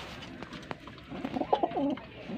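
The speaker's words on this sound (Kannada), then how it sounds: "ಇದು ಹೊಸ ಪಾರಿವಾಳ" A newly bought pigeon coos softly in a home pigeon loft, with a few low, rolling coos that sit close but quiet, with light background noise and no talk.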